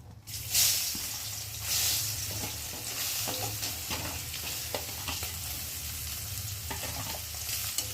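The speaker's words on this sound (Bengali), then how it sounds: "আর এই তেলের মধ্যে এখন সয়াবিনগুলোকে দিয়ে ভালো করে ভেজে নেব।" Soybean chunks frying in hot oil in a pan, a continuous bright sizzle with occasional scraping and stirring clatter, close and steady throughout with no talking.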